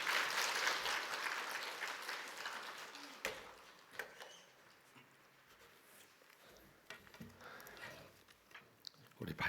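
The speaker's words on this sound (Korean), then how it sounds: "우리 박수로 환영하겠습니다." A church congregation applauds to welcome a visiting pastor at an autumn revival dawn service: a broad wash of clapping fades after about three seconds into scattered claps and soft room noise.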